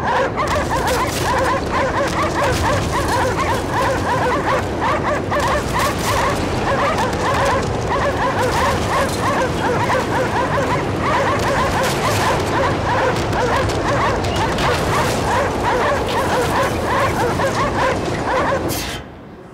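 Continuous yapping and barking from several dogs in the video game Cryostasis: Sleep of Reason fills the whole stretch, loud and close, with whimpers mixed in, ending abruptly.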